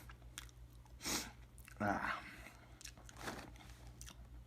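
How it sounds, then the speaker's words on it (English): Doritos chips crunch close to the mouth in a few sharp bursts of chewing and biting, separated by quieter pauses, soft and near with faint background hum. "chewing through this many Doritos in one sitting"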